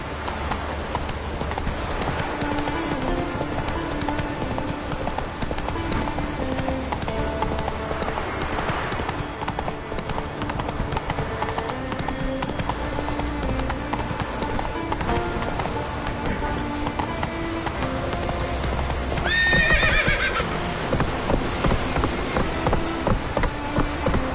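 A horse gallops with steady, continuous clip-clop hoofbeats in The Witcher 3: Wild Hunt, played on PS5, with game music underneath, and near the end a brief neigh rises above the running hooves.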